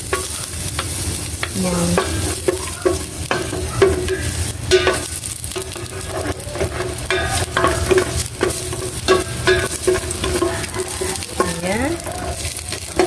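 Garlic sautéing in a hot pan for a home-cooked soup, a steady close sizzle and frying hiss with repeated stirring scrapes throughout, while a voice speaks briefly now and then.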